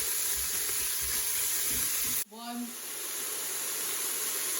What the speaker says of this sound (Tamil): மிக்ஸ் பண்ணினா பிறகு ஒரு 10 மினிட்ஸ் கொஞ்சம் வதங்கட்டும்.